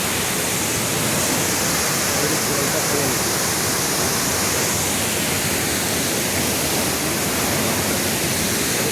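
Sanaghagra waterfall in monsoon flow, a loud unbroken broadband roar of falling water filling the whole stretch, close and constant.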